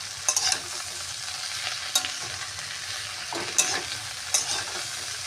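Water spinach with pumpkin is stirred in a frying pan after ground green chili is added, a steady oily sizzle under a few distinct scraping clatters of the spatula against the pan.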